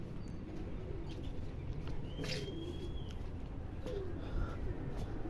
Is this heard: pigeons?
yes